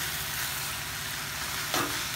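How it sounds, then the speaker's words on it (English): Hot, spicy vegetable noodles sizzle and fry steadily in a pan as sauce is stirred through, with a brief scraping stir near the end standing out over the constant crackle. "Add it in now and give it a final good mix."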